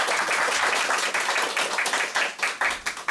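Group applause rings out at a mentoring talk for parents of young tennis players, with dense, rhythmic clapping from a nearby audience that continues throughout.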